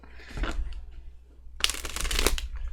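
Tarot cards are shuffled in two quick riffling bursts, close and crisp, with a short pause between them.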